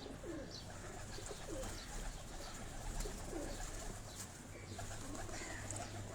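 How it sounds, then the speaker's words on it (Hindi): Pigeons coo on a Karachi rooftop kept by fanciers, soft repeated calls and a few chirps spread through steady outdoor ambience with low city hum, no talking. "ये कबूतर देखें आप"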